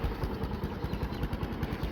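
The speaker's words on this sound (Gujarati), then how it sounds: "કિશનભાઈનું બાઇક છે," A motorbike engine runs steadily close by, a low rhythmic idling putter with a light mechanical clatter throughout.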